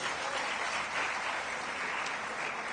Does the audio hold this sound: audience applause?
yes